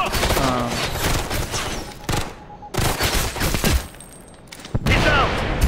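Video-game gunfire from a squad shooter, with sniper, DMR and SMG weapons in play, comes through as loud sharp cracks and short bursts. Players talk over it, and the shooting stops briefly near the middle.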